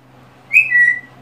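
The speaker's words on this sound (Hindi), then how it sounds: "कोई सीटी मत मारो," A person gives one short, clear whistle that starts high and steps slightly lower before stopping, loud and close in an otherwise quiet room.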